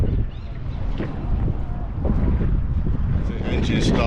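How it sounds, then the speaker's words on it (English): A boat engine starts up and rumbles low and steady before a trip out to islands off Phuket, heavy and close, mixed with gusty wind buffeting the microphone. "The engine's starting up, ready to leave."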